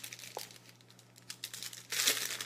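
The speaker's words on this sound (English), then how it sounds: "it's fabric, and it's got crunchy stuff on the inside that makes noise." Crinkly baby paper, a square fabric toy with a crunchy wax-paper-like filling, rustles and crackles in short handled bursts, quiet at first and growing louder and denser toward the end.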